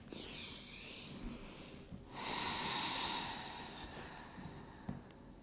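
A slow, deep breath is drawn in and let out during a calm yin yoga session, heard close and soft as an airy inhale followed by a longer exhale.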